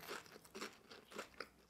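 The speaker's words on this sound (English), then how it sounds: "Because as soon as I bit into this onion ring" Crunchy onion rings being bitten and chewed up close, a quick series of about five sharp crackling crunches in an uneven rhythm, fairly quiet and with no talk.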